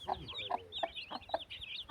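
Hens clucking close by in a quick, uneven series of short calls, with other birds chirping faintly in the background.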